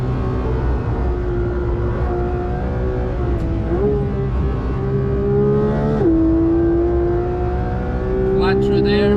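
Porsche GT3 engine held at steady high revs while driven nearly flat out around the Nürburgring, a loud continuous drone with brief pitch dips and recoveries.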